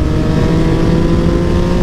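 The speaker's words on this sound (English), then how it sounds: "Fifth gear, full wide open throttle." A Yamaha MT-09 motorcycle with a full exhaust and a flashed ECU, held at wide open throttle in fifth gear, gives a loud, steady, sustained engine roar with no talk.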